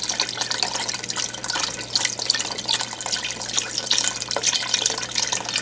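Boxed chicken broth pours into a pot for Chinese brothy noodles with bok choy, a steady splashing liquid stream that stays close and moderately loud, with no talking.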